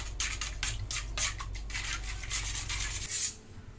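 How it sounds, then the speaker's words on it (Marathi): A spoon stirs water, sugar, salt and turmeric together in a bowl for dhokla batter, giving a close, steady run of soft scraping and rubbing strokes with no talk. "आणि सुरुवातीला ते सगळं मिसळून घेते."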